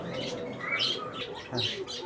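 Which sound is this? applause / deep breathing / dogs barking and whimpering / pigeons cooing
pigeons cooing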